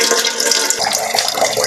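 Water pours steadily and loudly into a pot while cooking Shan-style fried khao soi, a continuous splashing gush with no talk over it.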